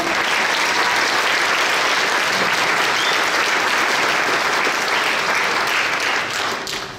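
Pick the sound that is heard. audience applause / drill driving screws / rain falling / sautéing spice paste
audience applause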